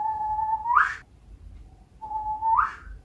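A person whistles an imitation of the Japanese bush warbler's song in two close, clear phrases. Each holds a long steady note and ends in a quick rising flourish, with short quiet gaps between them and no talk.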